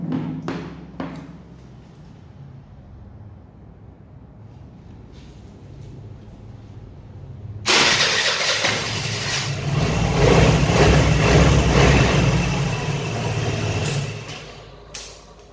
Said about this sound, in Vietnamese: bây giờ mình sẽ nổ máy lên cho các bạn xem luôn nha